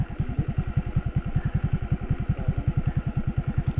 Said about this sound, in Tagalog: Ingatan mo yung motor mo, pambira ka.